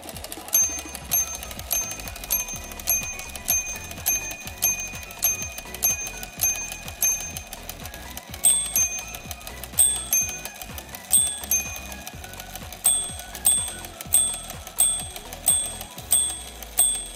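Handmade minute repeater watch striking its chimes, a series of small bright gong tones in regular groups over a soft ticking mechanism, close and clear with no talk.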